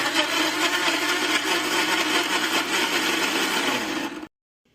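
A kitchen grinder blends ginger and green chillies into a puree, running as a loud, steady whirring buzz for about four seconds before cutting off abruptly to silence.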